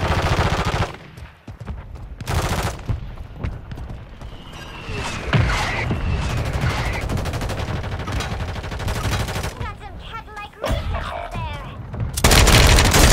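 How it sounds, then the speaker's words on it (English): Gunfire and a mortar strike in the video game Call of Duty 3: loud bursts of rifle and machine-gun fire, whistling incoming rounds and booming impacts come in uneven waves, with brief voices heard between the shots. "Hostile mortar strike in the area."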